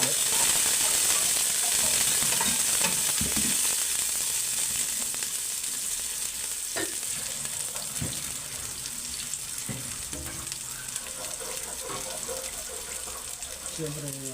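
Garlic sizzling in a hot pan for a chicken dish, a steady, close hiss that fills the whole stretch and eases slightly partway through, with occasional faint clinks and no talking.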